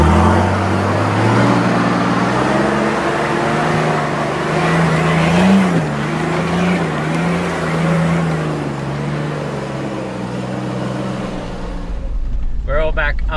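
Off-road vehicle slipping and sliding on a wet, muddy track, its engine droning steadily and loud throughout at close range, rising and falling with throttle, with a brief burst of sharper noise near the end.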